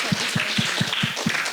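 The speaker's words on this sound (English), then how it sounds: "Let's clap for each other." A session audience at a documentary event claps together in a steady, even rhythm of about six beats, fairly close and distinct, with a faint murmur of voices beneath.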